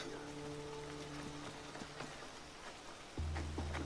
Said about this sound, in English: It's raining. It's the first time I've seen it rain in the game.